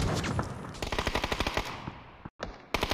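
Rapid automatic gunfire in a PUBG esports match, a long burst of closely spaced shots followed by a brief gap and a final shot, loud and sharp with no talking.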